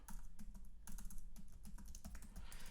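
Rapid keystrokes on a computer keyboard, steady and close, clicking along without pause for a few seconds with no voices.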